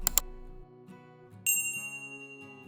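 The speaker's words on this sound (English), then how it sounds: "Ring the bell because dinner is served." Bright metallic bell dings twice quickly at the start, then a single clear ring after a pause, its tone sustaining and slowly decaying, used as a sound effect with no speech.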